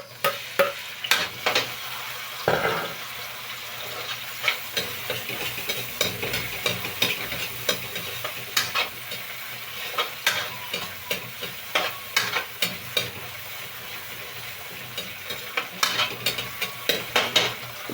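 Tomatoes sauté in a hot pan with a steady sizzle, punctuated by frequent sharp scrapes and knocks of a spatula stirring against the pan, close and fairly loud without speech.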